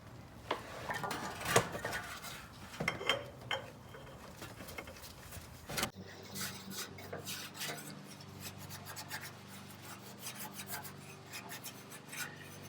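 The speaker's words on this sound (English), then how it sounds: "put a little bit of oil around the rim of the oil filter" Rubbing oil around the rubber rim of a new oil filter during a Nissan Pathfinder oil change, heard as close, steady rasping and rubbing strokes with scattered clicks, louder in the first few seconds and then quieter.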